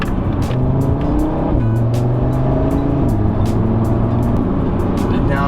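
A 2018 Audi RS3 engine accelerates hard with stability control switched off, loud and close, its rising harmonic drone climbing through gears with distinct shift drops; a voice talks over it throughout.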